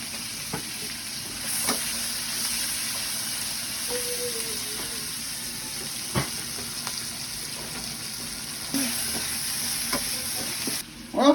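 Onions sautéing in a pan: continuous loud sizzle with intermittent scrapes and taps of a spatula stirring, a brief clatter at the end.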